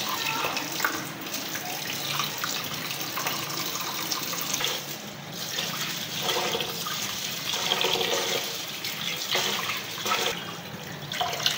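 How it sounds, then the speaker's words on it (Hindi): Steady running water splashing and sloshing as rice is rinsed in a pot, a continuous wet rush with small swishes, close by, with no voices. "चावल जब तक धोने हैं जब तक इनका पानी साफ़ नहीं हो जाता।"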